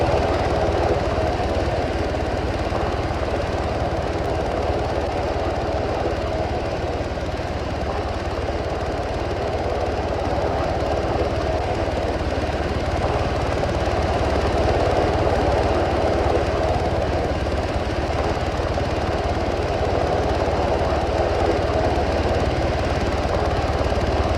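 Steady, loud rotor and engine drone fills the whole stretch without letup, a close helicopter carrying patients running continuously with no voices.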